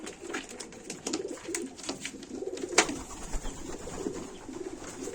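Nuremberg blue-wing pigeons, young nest siblings, coo in soft repeated rolling phrases inside a coop, close by, with a few brief rustles and one sharper click partway through.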